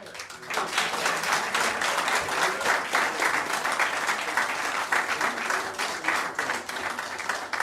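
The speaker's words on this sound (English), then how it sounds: "Let's give our student regional minister another round of applause for that" An audience at a New Orleans mosque gathering claps steadily and loudly throughout, a dense wash of many hands without pause, nearby and filling the room.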